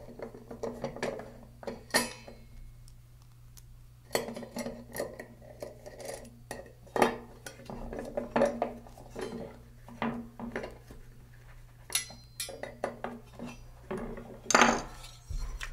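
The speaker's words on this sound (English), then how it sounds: "And bolt your VEX right to them." Metal hardware clinks and ratchet clicks as VEX parts are bolted onto 80/20 aluminum channel, scattered bursts of light tapping and clicking up close, with quiet gaps over a low steady hum.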